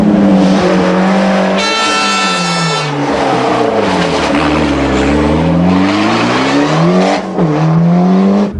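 A Ford Sierra Cosworth rally car races during the 1991 Rallye des Garrigues, its loud engine revving and swooping in pitch through gear changes, with a brief high whine near the start.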